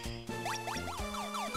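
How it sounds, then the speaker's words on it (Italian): A short electronic teleport effect from the Pokémon Light Platinum video game: quick rising and falling chiptune sweeps over a sustained synth tone, clear and alone, with no talking. "Perché c'è il rumore del teletrasporto"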